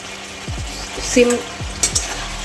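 Sauce water poured into a pan of frying chilli cauliflower over a high flame, giving a steady sizzle with a few stirring scrapes and short splashy bursts.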